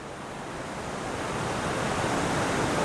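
A river rushing through a cave passage, a steady dense roar of flowing water that grows slightly louder and fills the space evenly without any voices.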